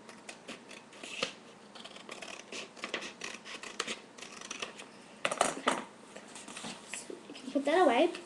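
Scissors snipping through paper while making a paper balloon, a run of quick crisp cuts at close range with a louder burst near the end, as a person talks over it.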